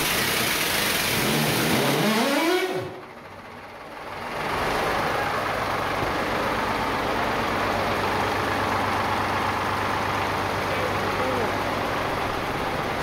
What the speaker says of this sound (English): Now here we're going for a start off of number three generator.